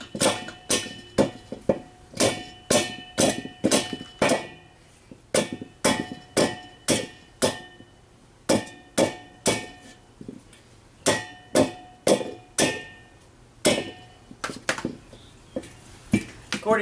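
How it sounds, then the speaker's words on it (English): Hammer striking a metal piece braced against a vise grip while prepping a Corvair cylinder head, producing repeated sharp metallic clanks in uneven clusters, close up with short ringing decays and pauses between bursts. "Instead of hammering on the vice grip, just hammer on this metal dealie that actually came with my miter saw."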